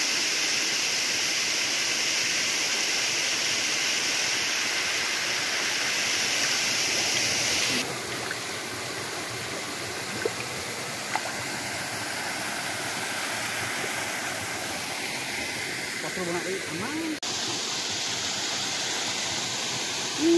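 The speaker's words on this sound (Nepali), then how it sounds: "अनि यो खोजबाट चाहिँ झरना जस्तै गरी पानी झरेको छ।" Water pouring down like a waterfall at Baikuntha Lake in Madi, Chitwan, a steady, loud rushing roar that fills the whole stretch with no voices.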